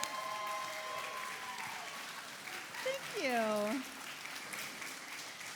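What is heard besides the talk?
audience applause for the film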